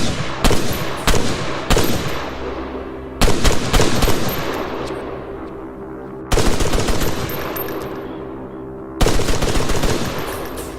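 Arma 3 video game gunfire with muzzle flashes at night: loud, close automatic bursts of rapid shots in four long volleys, each decaying into a brief echoing tail.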